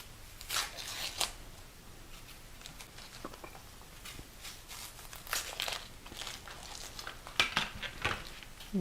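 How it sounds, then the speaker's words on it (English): A chef's knife cuts an onion in half on a board, followed by the dry skin being peeled away, with sharp chopping taps and soft crinkling rustles, quiet and close. "Now cut the onion in half. Then peel away the skin."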